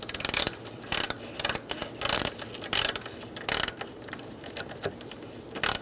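A 10mm socket on a hand ratchet snugs up radiator bracket bolts on a 2010-2013 Kia Soul 2.0L, giving short, close bursts of sharp clicking separated by brief pauses.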